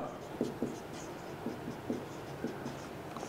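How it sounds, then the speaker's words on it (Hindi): Marker or chalk writing a line on a board during a physics lesson, heard as a series of short scratchy strokes in quick bursts, fairly close and moderately quiet, with no talking over them. "तो देखो मैं यहां पर एक लाइन लिखता हूं"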